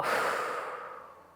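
A single slow, deliberate breath drawn in and let out during a calming nervous-system reset exercise, soft and close, fading gently over its length with no talk.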